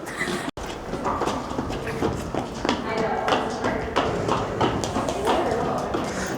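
Horse hooves clop steadily in a walking rhythm, close by, as the horse is evaluated for lameness, with people talking over them.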